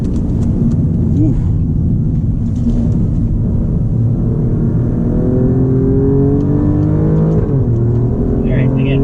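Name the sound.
Alfa Romeo Giulia Quadrifoglio or BMW M850i driving on track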